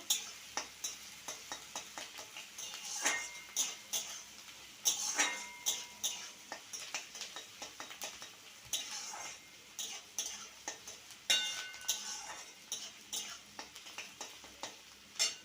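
Chopped green chilies fry in a pan while a spoon scrapes and stirs in frequent clinking strokes over a soft, continuous sizzle, heard close and alone.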